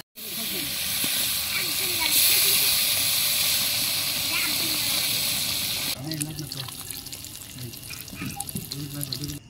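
Water poured into a hot pan while cooking a large goose on a rooftop, a loud rushing hiss of steam that cuts off after about six seconds, followed by quieter bubbling and clatter with voices talking nearby.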